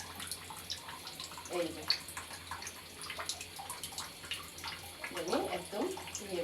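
Tap water runs and splashes while hands are washed in a kitchen, a faint steady trickle with irregular splashes, under a brief spoken remark.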